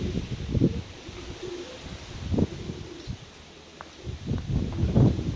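Pigeons in a cellar loft, a grizzle-smoke male and his crested female among them, give low rolling coos in several soft bursts, fairly close, with faint rustling between calls.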